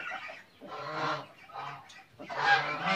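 Farmed geese honk during a morning feeding, sounding in several loud, nearby bursts of harsh calls with short pauses between them.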